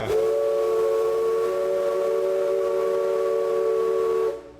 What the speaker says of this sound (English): Stand by for whistles, Captain.